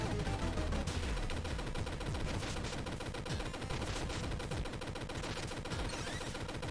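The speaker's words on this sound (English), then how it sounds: "Heavy machine gun." Heavy machine gun firing in the retro game Super Cyborg, a dense, continuous stream of rapid electronic shots layered with blasts and game effects, steady and loud throughout.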